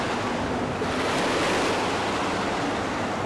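Ocean surf washing onto a beach in Cyprus, a steady broadband roar of breaking waves with some wind buffeting the microphone, continuous and fairly close throughout with no voices.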